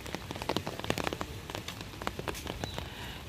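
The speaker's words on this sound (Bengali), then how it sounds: "এদিকে অনেকটা জোরেই পড়ছে বৃষ্টি" Heavy rain pours down at Rabindra Sarovar lake in Kolkata, a dense close patter of drops hitting surfaces with sharp irregular splats over a continuous hiss.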